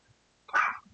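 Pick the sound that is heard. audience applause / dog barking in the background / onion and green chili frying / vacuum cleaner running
dog barking in the background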